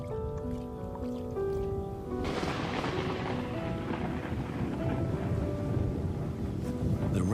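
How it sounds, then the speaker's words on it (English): A rainstorm over lion country in the wild sets in with a broad, steady wash of falling rain and gusting noise, rising suddenly partway through and staying loud to the end. "The rainstorm brings healing and relief to the land and the lions."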